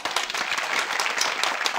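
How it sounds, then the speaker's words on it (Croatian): Applause from a live audience at a comedy show, continuous clapping with individual claps audible, fairly close and even throughout. "Otprilike aplauz, jedan najveći."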